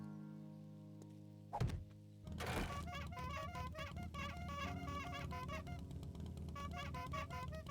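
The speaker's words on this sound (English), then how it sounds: "I'm gonna set this workbench back up and start making ammo in it." Crafting at a workbench in 7 Days to Die: a single thunk, then a steady run of rhythmic mechanical clicks and clacks continues at a constant level over a low background hum.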